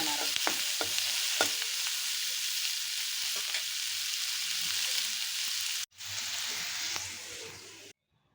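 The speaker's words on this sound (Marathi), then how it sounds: "त्याच तेलात आणि त्याच कढईत हा कांदा आपण चांगला लालसर परतून घेणार आहोत।" Chopped onions frying in oil in a kadhai, with a steady close sizzle and scraping stirs throughout, cut off abruptly twice near the end.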